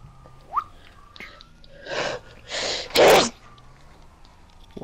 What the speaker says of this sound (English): Sneeze. That's what it was.